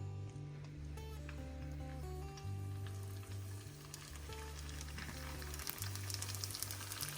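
Malagasy sambos, small samosas, sizzling in hot oil in a heated pan: a continuous crackling fry with a low steady hum running beneath it throughout.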